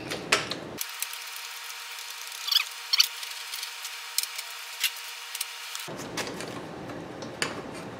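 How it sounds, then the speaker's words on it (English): A clamp screw being turned to squeeze pieces of HDPE plastic together, giving soft ratcheting clicks and small creaks at an uneven pace, close and fairly quiet, with no talk. "I'm squeezing it down pretty good just by turning that screw."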